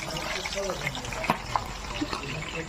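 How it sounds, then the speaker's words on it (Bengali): Chicken sticks fry in a pan with a steady, close sizzle and scattered small pops, and a voice talks over it. "তো দেখো ফ্রাই হচ্ছে, আর কত সুন্দর সেন্ট বের হয়েছে, আর কত সুন্দর ফ্রাই হচ্ছে"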